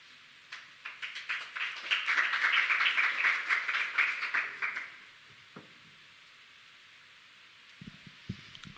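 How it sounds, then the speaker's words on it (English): An audience applauds learners at a PetroConnect and W&RSETA skills development awareness event. Dense clapping swells, holds steady for a few seconds, then dies away, leaving a quiet room with a few faint knocks. "we hope that you're clapping for those learners"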